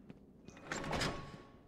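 A door opening in Batman: Arkham Asylum, heard as a mechanical sliding swoosh that builds and peaks mid-clip with a rumbling low end, then fades, alone and fairly quiet.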